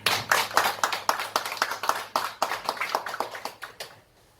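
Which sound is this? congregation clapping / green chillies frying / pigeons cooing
congregation clapping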